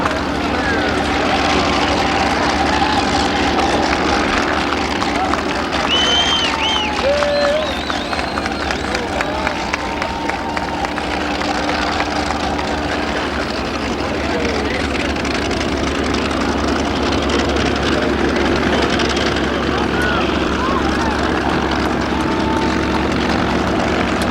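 Rare Bear, an unlimited-class racing plane with a three-bladed propeller, runs its engine at the Reno 1990 air races, a steady loud drone that fills the whole stretch while a crowd and other voices murmur underneath.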